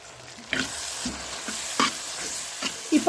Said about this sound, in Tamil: இப்போ தக்காளியும் இதோட சேர்ந்து கொஞ்சம் வதங்கணும்.